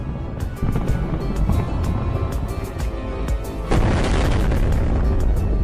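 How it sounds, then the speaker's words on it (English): An ammunition depot struck by HIMARS rockets goes up in deep, rolling booms layered with dense crackling secondary blasts, growing louder and fuller about two-thirds of the way through. "The explosion will be incredibly spectacular, beautiful, and terrifying at the same time, like tons of New Year's fireworks going off all at once."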